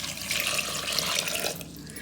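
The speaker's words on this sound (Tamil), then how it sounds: "நான் 3 கப் அளவுக்கு தண்ணி ஊற்றுறேன்" About three cups of water poured steadily into a pot of moringa leaf soup ingredients with pepper and salt, a continuous close splashing stream with no voices.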